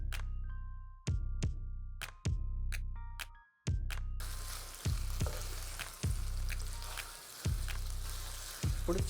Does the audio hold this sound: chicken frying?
yes